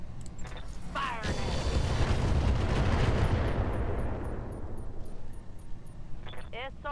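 Mech weapons firing in the Roguetech BattleTech video game, a sustained heavy roar of missile and cannon fire with booming low rumble that swells and slowly tails off, with brief robotic voice bursts at the start and end.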